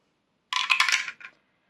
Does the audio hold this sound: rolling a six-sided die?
yes